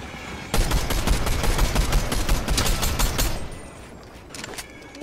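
Rapid automatic gunfire in a video game, a dense burst of shots lasting about three seconds before tapering off into quieter background sound.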